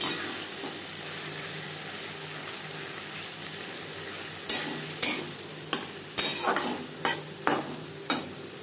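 Silver carp fish oil being stirred with vegetables such as eggplant in a pan, steady sizzle beneath a run of sharp spoon scrapes and knocks that cluster in the second half.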